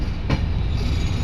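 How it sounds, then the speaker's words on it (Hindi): A diesel locomotive from the Lucknow diesel shed runs on a parallel track near Lucknow, a steady close rumble of engine and rolling stock with one brief clattering burst, no talk. "हमारे पैरेलल में एक इंजन चल रहा है लखनऊ एलकेओ शेड का, एलकेओ डीजल शेड का ये इंजन चल रहा है हमारे पैरेलल में"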